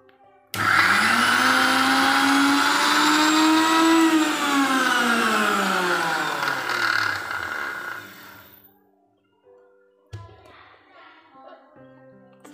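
A kitchen mixer grinder crushes coconut and green chilies, running loud and steady for about eight seconds with a rising then falling whine as it winds down. A few brief clinks and a short restart burst follow after the motor stops.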